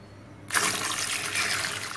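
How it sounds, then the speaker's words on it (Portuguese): Two litres of room-temperature water pour into a homemade vinegar and caustic soda liquid soap mixture, a sudden splashing rush that starts halfway through and continues steadily and loudly. "nós vamos acrescentar 2 litros de água, temperatura ambiente"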